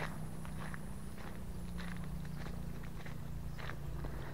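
Footsteps on foot along a road near the Tegalgondo overpass in Purworejo, a steady run of soft steps over a constant low rumble of background noise, with no talking.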